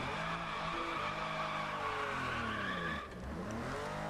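A Porsche 911 Carrera widebody drifts in a racing video game, its tires skidding and squealing in a long continuous screech over the engine's steady drone, with a brief dip near the end.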